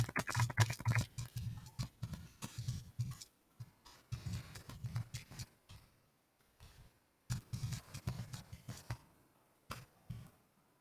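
Keys clack in short bursts on a computer keyboard while a PowerShell command is typed, the quiet close taps separated by brief pauses.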